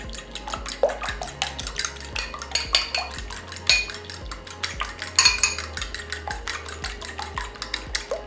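Eggs being lightly beaten in a bowl for banana bread, a quick run of rhythmic utensil taps and clinks against the bowl, close and fairly quiet, continuing without pause.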